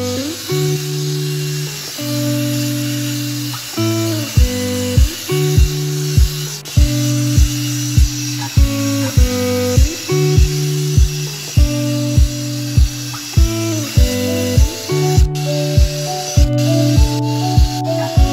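A polishing disc is run over the headlight lens of a 2008 BMW X6 in repeated bursts, giving a high whirring, drill-like whine that starts and stops in a steady rhythm, close and loud.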